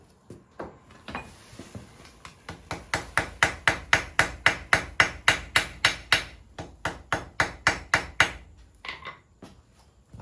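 A hammer forge welding a hand forged frizzen spring coated in borax flux, struck in a rapid, steady run of about twenty-five sharp metallic blows close by that builds in loudness, then slows and stops, with no talking.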